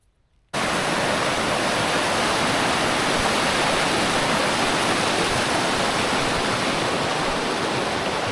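May Creek rushes steadily past on a trail near Ross Lake, a loud, close, unbroken wash of flowing water that cuts in abruptly after a brief quiet moment and holds constant.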